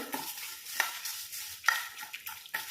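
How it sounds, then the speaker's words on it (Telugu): Coriander seeds, dried red chillies and cumin dry roasted in a pan over a low flame, with light scraping stirs and a few sharp clinks of the utensil, close and fairly quiet, without talk. "ఇవన్నీ కూడా లో ఫ్లో మీద పెట్టుకొని ఫ్రై చేసుకోవాలి"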